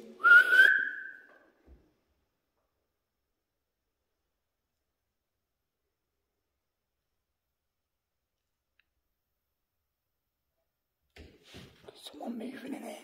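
A single short, clear whistle sounds at the start, then a long silence, followed by faint rustling and clicks near the end.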